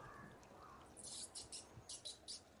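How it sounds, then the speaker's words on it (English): Birds chirp inside a radio studio, a series of short, bright, high-pitched tweets in quick clusters over a low, steady room hum. "We got birds in the studio."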